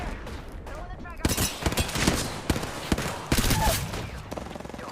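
Video game gunfire, rapid bursts of shots and explosions crackling in loud clusters, with a player talking under the action.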